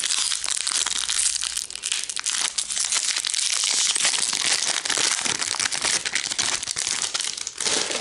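Magic: The Gathering Jumpstart booster pack wrappers being torn open and crumpled, a dense, continuous foil crinkling and crackling that stays close and loud for the whole stretch, with no talking.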